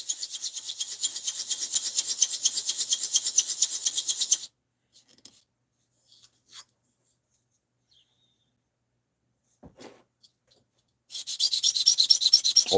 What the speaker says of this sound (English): Why are you sanding?